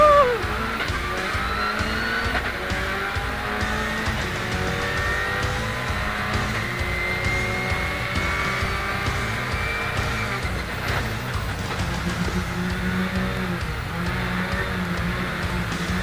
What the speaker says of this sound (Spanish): escucha el motor